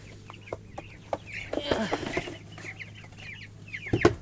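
Young chickens, a mix of six-week and three-week-old birds, cluck and cheep in a steady chatter of short chirps and clucks close by, with a few louder calls rising toward the end.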